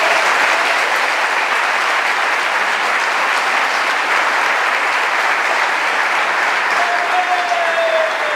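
A church congregation applauds the Lord together, a dense, steady wash of clapping that holds loud and even for about eight seconds, with no voices standing out.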